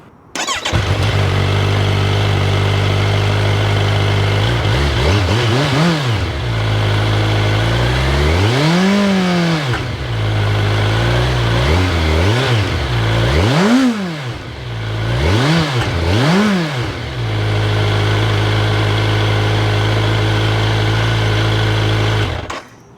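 A 2025 Kawasaki Ninja 1100SX sport-touring motorcycle with its stock muffler idles steadily, then is blipped through several sharp revs that rise and fall back to idle, loud and close, with no talking.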